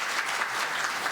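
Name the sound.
audience applause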